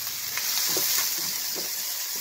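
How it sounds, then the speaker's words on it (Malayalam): Green chillies tossed into a hot pan of frying onions for a Kerala cabbage leaf thoran, giving a steady bright sizzle with a few soft stirring scrapes, close and even throughout, no voices. "ഇനി നമുക്കിതിലേക്ക് പച്ചമുളക് ഇടാം."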